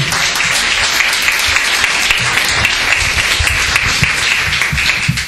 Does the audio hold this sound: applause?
yes